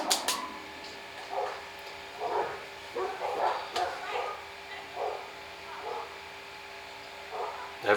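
A neighbouring dog barking somewhere nearby, several moderate woofs spaced irregularly across the stretch, with no one speaking.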